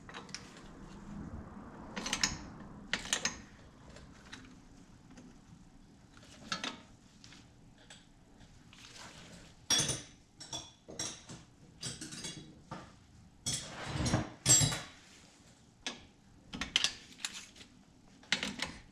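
Wrench tightening the brake caliper pins on a 1999-2004 Mustang GT front brake: irregular metallic clicks, ratchet-like ticks and clinks in short bursts with pauses, close and fairly quiet.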